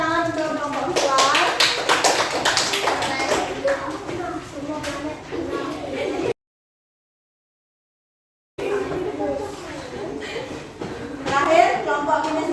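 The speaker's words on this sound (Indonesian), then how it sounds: "Silakan berikan tepuk tangan untuk kelompok visual." A classroom of students claps for a presenting group, a burst of applause mixed with children's chatter, then a silent gap and more clapping with voices.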